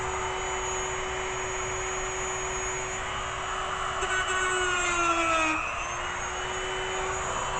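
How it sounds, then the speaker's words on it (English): Small Dremel rotary tool grinding a corroded copper or brass part from a Midland CB radio, a steady high-pitched whine whose pitch dips briefly as the bit bears down, then recovers. "I always love to have my little Dremel"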